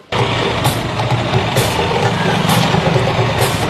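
A truck engine runs loud and close throughout, with a steady mechanical rumble and periodic higher bursts like reversing beeps or air releases, and no talk over it.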